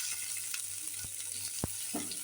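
Chopped onion, garlic and ginger fry in hot oil, making a close, fairly quiet crackling sizzle with a few sharp pops and stirring scrapes.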